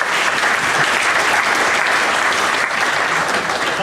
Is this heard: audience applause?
yes